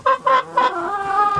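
Chickens cluck inside a mobile egg coop built from an old trailer, scrap wood and fencing, three loud close clucks in quick succession followed by a longer drawn-out cackling call.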